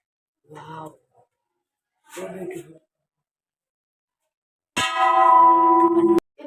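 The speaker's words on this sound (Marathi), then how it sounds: "प्राचीन काळातली अशी खूप मोठी घंटी आहे" A large ancient bell at the Vitthal Rukmini temple in Kaundanyapur, Maharashtra rings once with a sharp strike and a bright, sustained ring, after two short bursts of speech separated by silence.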